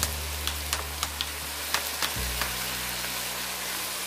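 Vinegar splashes into a hot pan of chicken macaroni, which sizzles in a steady close hiss with a few sharp crackles and pops, the frying settling into an even, dense sputter with no talking.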